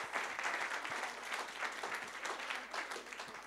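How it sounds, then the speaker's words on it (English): Audience applause in a hall, steady, soft, distant clapping from many hands that holds evenly for a few seconds without any voices. "A round of applause for David and the people who have made it"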